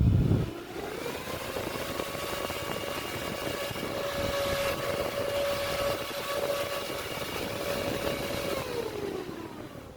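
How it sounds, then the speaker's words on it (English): A 22 watt high-airflow electronics cooling fan, rated around 150 to 200 CFM, runs steadily with a loud whooshing rush of air and a sustained whining tone throughout, close by, with no talking. "you can tell that fan is actually a bit noisier than this one. It's moving quite a bit of air."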